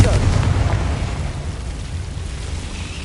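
Low booming explosion from the Confringo blasting spell in the Hogwarts Legacy video game, loud at first and then slowly rumbling away, with a voice speaking in the background.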